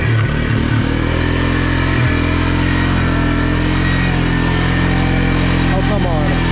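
A Polaris UTV on stock tires churns through mud in two-wheel drive, its engine droning loud and steady with brief dips and clattery surges, while a voice talks over it.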